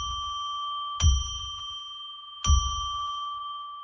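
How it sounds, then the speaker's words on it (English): A bell rings clearly with a sustained tone, then is struck twice more at about one-and-a-half-second intervals, each strike adding a bright attack over the lingering ring, heard alone in a quiet studio. "I'm going to ring a bell 3 times to declare and establish"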